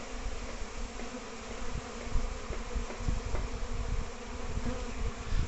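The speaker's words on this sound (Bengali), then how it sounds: "একদম বক্সের সামনে গিয়ে খুব দুরন্ত বেগে হুড়োহুড়ি করছে" A honeybee swarm buzzes in front of a hive box as bees are brought in from a tree branch; a thick, continuous drone of many wings stays close and steady throughout.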